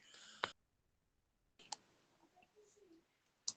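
Quiet mouse clicks on a computer as a web page link is opened: one sharp click near the start, another about a second later, and a final click at the end, with faint background noise between and no talking.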